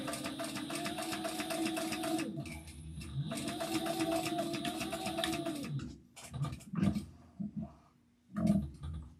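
A sewing machine stitches a backpack in two steady, close runs that each last a couple of seconds. These are followed by short bursts and handling clicks.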